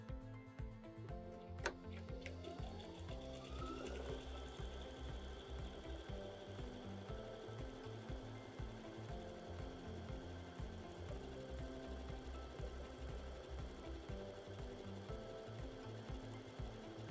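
Brother LB5000 sewing and embroidery machine stitching a buttonhole, a steady rapid mechanical ticking and whirring that runs continuously at close range with no talk.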